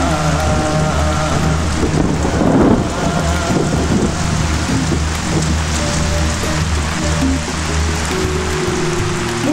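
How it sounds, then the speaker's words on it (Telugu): Heavy rain pours steadily and loudly, a dense continuous hiss of drops on surfaces with a low rumble beneath, no voices. "పెద్ద వర్షం కురుస్తుంది"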